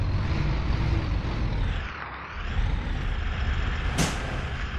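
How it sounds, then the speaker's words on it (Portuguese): Air brake hiss of a VW AMD RCK bus in the OMSI 2 bus simulator game, a loud sustained pneumatic rush with engine rumble, ending in a short sharp release burst. "Solta o freio, João, senão o ônibus não sai."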